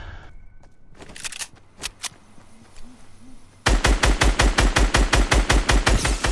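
An AUG rifle in Fortnite fires a fast, loud, evenly spaced string of close shots after a few scattered single cracks and quiet game sounds.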